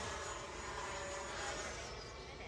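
Xfly T-7A Red Hawk 80mm electric model jet flying overhead, a steady loud ducted-fan roar and whine with a slight pitch shift as it passes, no talking.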